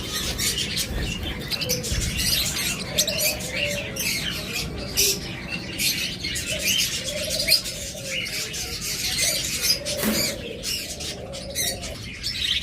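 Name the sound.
caged pet birds chirping, lovebirds and budgerigars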